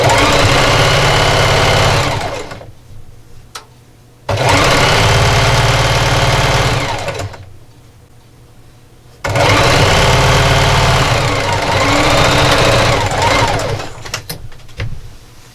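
A sewing machine runs a straight stitch at 2.5 length along fabric strips with a quarter-inch seam, whirring loudly in three steady bursts separated by short quiet pauses.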